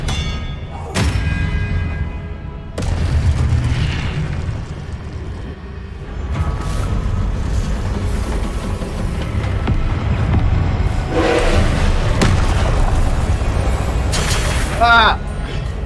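Expelliarmus spell blasts in Hogwarts Legacy land as several thudding booms amid busy game combat effects, with sharp impacts and whooshing bursts throughout.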